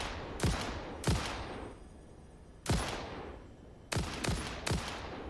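Gunfire from shooting at enemies in the factory-building video game Satisfactory, with sharp blasts arriving singly and in quick pairs, each with a decaying tail, loud and close with no talk.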